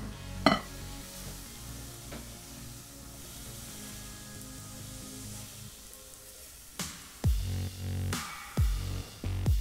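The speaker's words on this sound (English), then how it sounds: "Now put the oil in the dough." Hot oil poured gently into dough crackles and sizzles, with a sharp early clink and later several louder pops and spoon-like knocks against the bowl.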